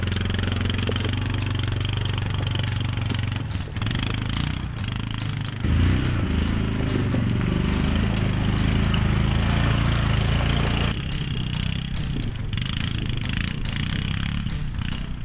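Quad bike climbing Mount Walker off-road, a continuous close mid-pitched engine drone with rattling clatter and slight rises and dips in revs throughout.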